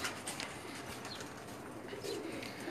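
Pigeons coo softly on a rooftop loft, a few low murmuring calls against quiet background rustle, faint and close, with no talk.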